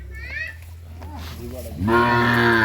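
A Sahiwal cow lets out a loud, drawn-out moo near the end, after a stretch of faint voices and background noise.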